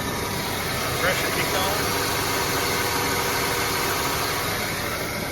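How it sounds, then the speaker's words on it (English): An air compressor runs steadily while inflating a plugged tire on a 1995 Ford F150 pickup, a constant mechanical hum and rattle with muffled talk nearby. "Compressor kicked on and staying on"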